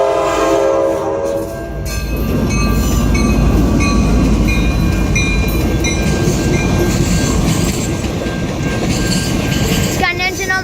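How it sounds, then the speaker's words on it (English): Passenger train with a North Carolina locomotive passes close and loud, with horn blasts early on, then a heavy rumble and rhythmic wheel clatter that continues throughout, with a crossing bell near the end. "Oh, it's a North Carolina engine."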